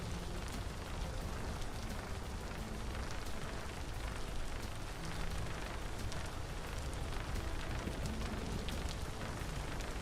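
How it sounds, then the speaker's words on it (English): Heavy rain falls without pause in a Minecraft modpack as a balloon drifts through the storm, a continuous close hiss and patter of drops with no voices over it. "Just want to get out of the rain."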